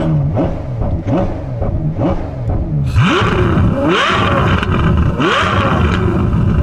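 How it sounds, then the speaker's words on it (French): A Ferrari F12 Berlinetta's 740-hp 6.3-litre V12 with stock exhaust revs hard up close, a series of rising, snarling blips that swell into a louder, sustained roar. "un V12 de 6 litres 3, ça donne ça"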